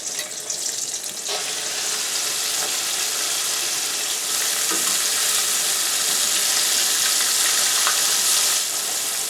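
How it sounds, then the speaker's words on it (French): Loud, dense sizzling and crackling of pork pieces in a second deep frying in hot oil, continuous throughout with occasional pops. "On remet le porc pour une deuxième friture."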